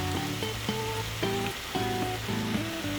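Water bubbling and sizzling in a frying pan while stir-fried fish cake with Cheongyang chili and shiitake mushrooms cooks, a steady close crackle running under melodic background music.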